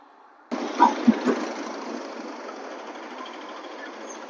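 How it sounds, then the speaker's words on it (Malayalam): A loaded lorry climbing a mountain road near Thenmala: its engine rumble starts abruptly and stays steady and fairly loud, with a few heavier surges in the first second, and no voices. "ലോഡ് അവിടെ നിന്ന് ലോറി വരുന്നുണ്ട്."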